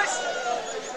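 Goats bleating amid a crowded livestock market in Chatmohar, Pabna, with a wavering cry that runs through the whole second and is mixed with nearby voices talking.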